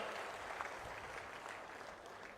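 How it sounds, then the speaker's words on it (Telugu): Steady crowd applause at a public meeting in Achanta, a dense, even clatter of many hands holding at a constant moderate level throughout with no break. "గట్టిగా చప్పట్లు కొట్టి మీ పొలాలకు నీళ్లు ఇచ్చిన అధికారులు అభినందించాలి"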